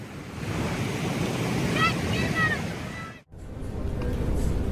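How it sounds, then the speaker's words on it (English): Large ocean waves roll in around a ship at sea, a loud, broad rushing surge with wind buffeting the microphone. A brief voice-like tone rises midway, and a sharp break comes before the roar resumes. "The moment the waves started to roll in"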